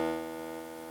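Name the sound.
eurorack Even VCO oscillator output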